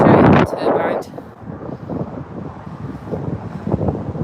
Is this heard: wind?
yes